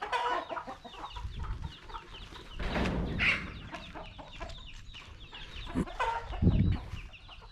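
Chickens cluck softly amid outdoor background noise in evening fields, with scattered low calls and rustling at moderate distance.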